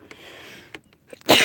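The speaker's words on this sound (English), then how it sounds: "I feel a sneeze coming on," A few faint breaths and small sounds lead into a sudden, sharp sneeze at the very end.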